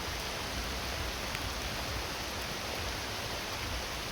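Heavy rain pouring down in a steady, dense hiss with no breaks, loud and close, with no voices.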